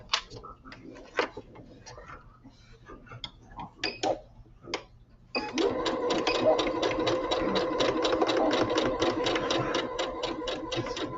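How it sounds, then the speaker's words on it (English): A sewing machine stitches fabric in a steady, fast rapid-fire run that starts partway through, preceded by a quiet stretch of talk and handling noises. "Let me sew this part down."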